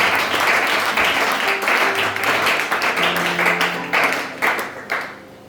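A church congregation applauds during a Sunday worship service, steady dense clapping that swells, then thins into scattered claps and fades out near the end.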